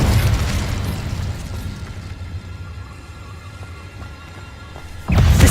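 A fiery burst from the Incendio fire spell in the Hogwarts Legacy video game opens loud, fades into a low rumbling roar, then swells again with a second blast near the end.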